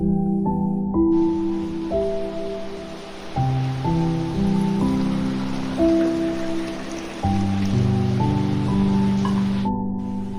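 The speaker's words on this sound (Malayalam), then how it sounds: "പുറത്ത് നല്ല മഴയാണ്" Steady rain hisses in the background beneath a gentle melody of sustained, shifting notes that dominates the foreground.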